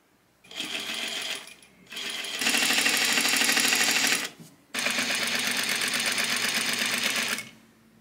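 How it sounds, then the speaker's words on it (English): A sewing machine stitches a jersey knit dress neckline in three close, loud bursts of rapid mechanical clatter, with short pauses between them. "but do not pull when you're sewing"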